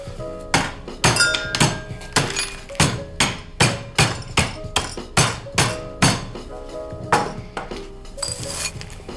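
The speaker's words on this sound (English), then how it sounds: "start smashing up the ice in this towel" Repeated heavy thuds of a hammer smashing ice wrapped in a towel, roughly a dozen blows in a steady rhythm, each with a sharp crunchy impact.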